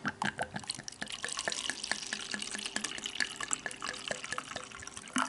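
Tea pours from a 2000 vintage Aladdin black steel thermos made in the USA, a quiet trickling stream of liquid with small splashes and drips, fairly close and soft, with no talking over it.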